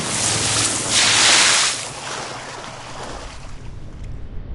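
A really angry toilet flushing in a post-apocalyptic wasteland, a broad rushing, roaring gush of water that swells, then settles into a steady churning wash with no talk.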